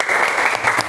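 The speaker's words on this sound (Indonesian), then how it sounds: "Kasih tepuk tangan untuk kelompok 1." Steady, dense clapping from a classroom audience applauding a group of children after their presentation, loud and close throughout with no talk.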